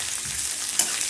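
Onion, green chili and spices fry with a steady close sizzle in a pan, with one brief stirring scrape partway through.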